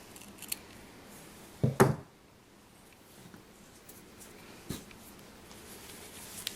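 Scissors snip once through excess yarn on a crocheted shell stitch shawl, a short crisp cut near the microphone in a quiet room, followed by faint handling sounds.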